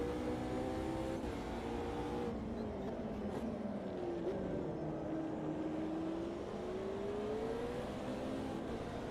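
Race car engine in a racing video game, a steady droning whine that drops in pitch as the car brakes late into a corner, then climbs again as it accelerates out, moderately loud with no talk.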